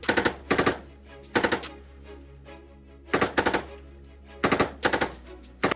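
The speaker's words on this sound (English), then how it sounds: "its sustained fire capability on the L4A1 tripod delivers devastating 10-round bursts at 800 meters" Bursts of automatic fire from a tripod-mounted machine gun in sustained-fire role, loud and close, in rapid strings of several shots separated by short pauses, with echo ringing between bursts and no voices.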